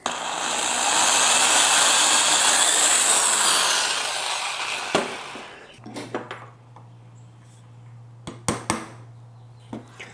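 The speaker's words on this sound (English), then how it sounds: "I'm going to go ahead and drill this hole and then pound the nail in" A drill grinds steadily into wood for several seconds while boring a nail hole for a squirrel feeder picnic table, loud and close, then stops; a low hum and a few sharp knocks and clatters follow.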